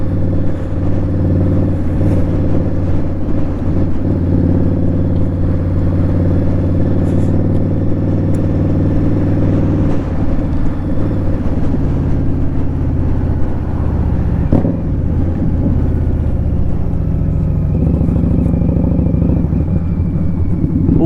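Indian Scout Bobber motorcycle engine heard from the rider's position while riding, a loud steady drone with wind rush, a brief dip and change in pitch around a gear shift partway through.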